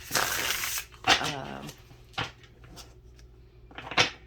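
A deck of reading cards is shuffled with a quick, soft rustling riffle, followed by a few quieter brief taps and slides of the cards in a quiet room.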